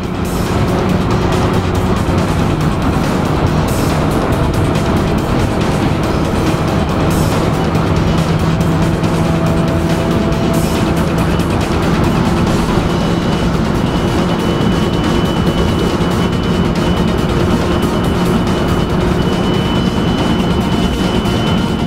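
A 1995 Opel Omega B with the two-litre X20XEV engine and manual gearbox accelerating toward top speed, its engine drone and road and wind roar loud and steady inside the cabin, with no talking.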